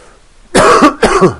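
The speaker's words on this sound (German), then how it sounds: "oh, ich bin noch Husten, Leute." Two loud, close coughs from a man, each a harsh burst followed by a short rasping tail, separated by a brief pause.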